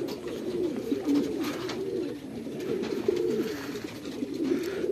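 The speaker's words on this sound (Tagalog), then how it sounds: "Ito yung mga nakakulong dito mga kalapatids" Caged pigeons cooing close by, soft repeated throaty coos in overlapping rounds, continuous and fairly quiet with no talk.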